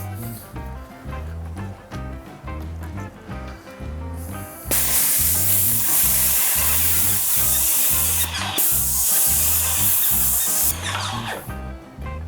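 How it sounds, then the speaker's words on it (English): An Avanti AV-APS1 airless paint sprayer runs on its low spray setting, its motor pumping in a steady rapid rhythm while loud broad hissing spray bursts come and go in long stretches. "Let's turn it to low spray and see what happens."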